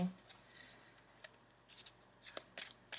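Quiet, close riffling and soft clicks as tarot cards are shuffled, in a few short bursts over about three seconds.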